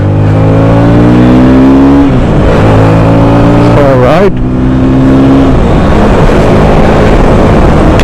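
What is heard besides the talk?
KTM Duke 160 motorcycle engine revving while riding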